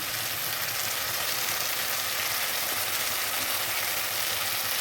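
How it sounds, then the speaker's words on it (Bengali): Boiled mixed vegetables go into hot oil and spices in a pan for a restaurant-style curry, raising a loud, steady sizzle and frying hiss that holds evenly throughout without any voice. "এবার এক এক করে সবজিগুলো দিয়ে দিচ্ছি"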